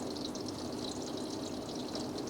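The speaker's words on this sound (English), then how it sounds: "Okay, I'm flushing the line up." Water rushes steadily through the supply line of an Orbit cool mist misting system being flushed out, a constant close hiss and spray with no breaks, no talk.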